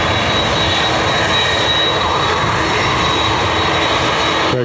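A Ryanair jet arriving from Stansted roars over Dublin Airport, a loud, steady, broadband engine rush with a thin whine running through it, sustained throughout.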